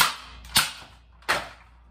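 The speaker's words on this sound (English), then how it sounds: "I just like this pistol so much. Cause you're literally just pressing the trigger." A gas-powered BB pistol fires two sharp, close cracks about three-quarters of a second apart, each with a quick decaying tail, preceded by a softer click, with no talking.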